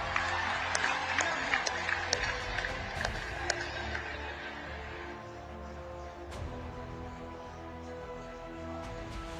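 At a PM Modi rally in Assam, an audience claps in a burst of sharp, scattered applause for the first few seconds before it fades beneath amplified speech.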